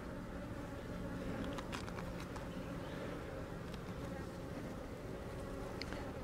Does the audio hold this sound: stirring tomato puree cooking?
no